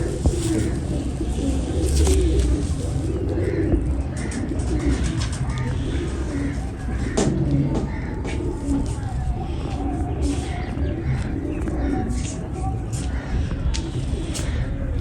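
Pigeons of a prized breed coo in low, repeated murmurs through a steady bird-filled background, while someone talks over them throughout.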